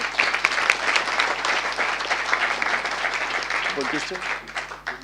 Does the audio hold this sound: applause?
yes